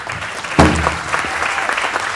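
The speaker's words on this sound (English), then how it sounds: "Big round of applause here." A crowd breaks into loud applause for a champion drum group at the Red Earth 2024 event at the National Cowboy & Western Heritage Museum, swelling suddenly and then holding as a steady, busy clatter of clapping.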